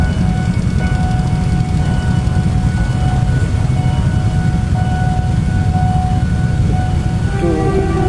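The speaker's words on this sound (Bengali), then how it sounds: "ওকে, এই হচ্ছে থাইল্যান্ডের ট্রেন।" A train passing on a railway in Bangkok, Thailand, a loud continuous low rumble with steady wheel clatter filling the whole stretch, close by, with no speech over it.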